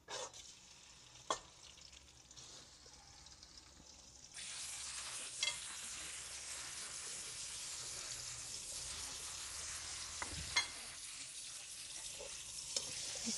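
Chicken pieces frying in a pan for hot and sour soup, a steady broadband sizzle that jumps louder partway through and continues with occasional stirring clicks and scrapes, close and without talk.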